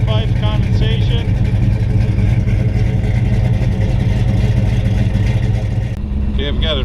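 A 1971 Plymouth GTX 440 Six Pack with a four-speed, fired up on a cold, foggy morning, runs with a loud, steady, lumpy rumble close by, and a voice speaks near the end.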